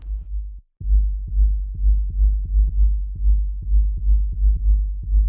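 Deep, saturated 808 bass kick drum hits with added distortion repeat in a steady, punchy pattern after a brief pause, loud and booming with a gritty edge.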